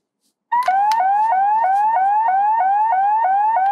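A looping electronic warble from a Kakuranger Dorone Changer toy, a rising chirp repeated steadily about every third of a second, preceded by a couple of sharp button clicks; bright, toy-like, with no voices.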